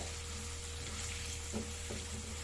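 Potatoes for Bengali aloo posto fry in a pan with salt added, a steady close sizzle broken by a couple of brief stirring scrapes.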